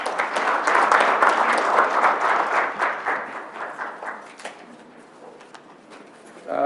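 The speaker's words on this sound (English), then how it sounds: "Let's give Mr. Smith another round of applause." A room full of people applauds at a business meeting with dense, loud clapping that holds for about four seconds, then thins and fades to scattered claps and room noise.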